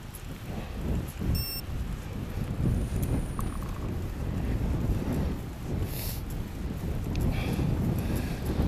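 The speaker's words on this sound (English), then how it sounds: "even in June, bloody mad wind." Strong June wind roars over a cyclist crossing Shap, a constant heavy buffeting rush battering the microphone with gusty surges throughout.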